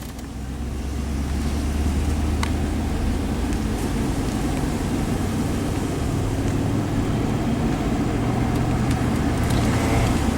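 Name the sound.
1999 Chevy Suburban test drive after transmission repair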